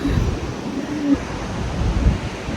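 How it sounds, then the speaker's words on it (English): Ocean surf washes steadily near seaside ocean baths, with a broad, constant roar of waves and some wind buffeting the microphone. "We've got ocean baths over there, obviously stunning ocean views"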